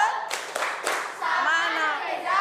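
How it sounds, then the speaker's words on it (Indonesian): Children in a classroom clap in a short burst of applause, a few sharp claps near the start, then children's voices and talk take over. "Oke, kasih tepuk salut."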